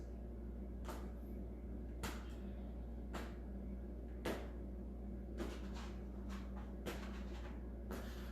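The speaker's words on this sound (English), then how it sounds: "Allowing your hands to knock on the front lower belly area, hip flexor, and the back hand will knock on the back." Hands knock on the front lower belly, hip flexor and back during a stress-relief movement practice, giving faint, irregularly spaced dull taps over a quiet steady hum, with no talk.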